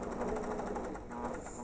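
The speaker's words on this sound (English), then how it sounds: "And then we'll complete by sewing right over the top." An APQS Millennium longarm quilting machine stitches binding onto a quilt, a steady, fast mechanical hum with a continuous needle-driven rattle running close and unbroken.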